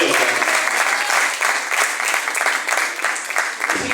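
A church congregation claps together at a revival service, dense sustained applause filling the room with some voices mixed in, steady throughout.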